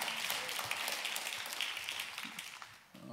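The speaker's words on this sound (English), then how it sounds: "You can applaud yourself." Congregation applauding in a church service, a steady wash of many hands clapping that carries evenly through the room and thins out near the end.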